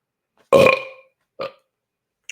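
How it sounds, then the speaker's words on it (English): A loud, single drawn-out human burp lasting about half a second, followed after a pause by a shorter, quieter second burp, with silence around them. "that was a really fucking big burp"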